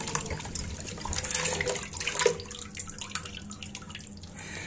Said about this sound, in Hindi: अच्छी तरीके दोनों हथेलियों से रगड़ कर बढ़िया से धुल लेंगे।